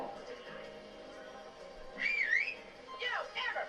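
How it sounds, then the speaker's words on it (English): A person whistles in the horror film Frankenhooker: two short bursts of sliding, warbling tones, the second a quick run of rising notes, heard over a faint, steady background murmur. "Has anybody tried to whistle like that?"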